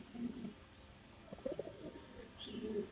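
Yellow Muffed Helmet fancy pigeons softly cooing nearby, a few low, throaty coos in short phrases separated by quiet gaps, with a faint chirp near the end.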